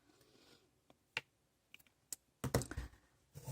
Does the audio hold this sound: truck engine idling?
no